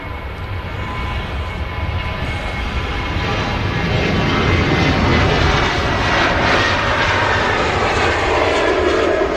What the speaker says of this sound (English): Ryanair 73 is just about to depart to Cork